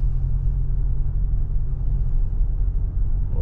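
A Toyota Land Cruiser Prado cruising along, a steady low engine and road rumble that stays even, with no voices.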